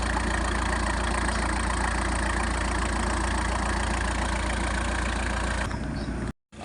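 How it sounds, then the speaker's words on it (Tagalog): A repaired diesel engine idles smoothly and steadily up close, a constant even rumble that cuts off abruptly near the end. "Maganda na andar, wala nang bugak."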